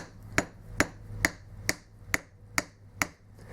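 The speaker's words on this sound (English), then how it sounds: "Just let the hammer fall on it, don't bang it hard." Light, evenly spaced metallic taps of a hammer on a screwdriver fitting a slip ring onto a Valeo alternator, about eight of them at a steady rhythm, close by with no voices.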